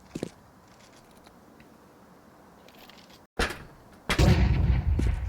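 Bursts of SMG gunfire in Counter-Strike 2: a short shot near the start, then a sharp volley and a louder sustained burst of rapid fire toward the end.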